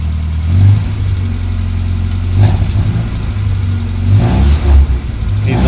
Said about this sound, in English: Now, I haven't started this car for about a week, so did need to crank for a minute, but there's 40 pounds of oil pressure at idle